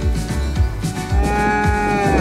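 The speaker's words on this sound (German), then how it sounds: "Dass die Rinder auf Naturschutzwiesen grasen, ist ihr wichtig." Cattle mooing on a nature-conservation meadow at an organic farm in Brandenburg, several loud close bellows overlapping in a steady lowing chorus with no talk.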